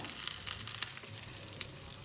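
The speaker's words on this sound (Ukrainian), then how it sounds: "Смажуємо з обох сторін до рум'яної скоринки." Syrniki, cottage cheese pancakes, fry in a pan with a steady, close sizzle and crackle of hot oil throughout, with no voices.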